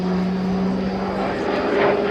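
A propeller plane performing aerobatics at an air show drones steadily overhead with a sustained engine hum, its pitch and loudness swelling slightly toward the end as it pulls up.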